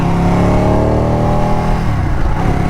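A 2019 Ducati 959 motorcycle in Artic White Silk revs loud and close, its engine note climbing and falling in a continuous rich drone that holds steady throughout.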